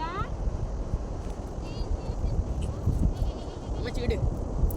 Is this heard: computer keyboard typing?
no